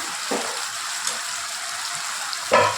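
Potatoes frying in oil with yogurt for a dahi aloo dum: a soft, steady sizzle runs throughout, with a brief louder clink or stir near the end.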